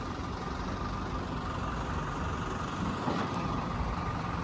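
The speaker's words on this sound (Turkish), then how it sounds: "Babamla traktörü getiriyor." A tractor engine idles steadily nearby, a continuous low rumble with a faint brief air hiss near the end, heard on a farm while bringing in a 6-ton trailer.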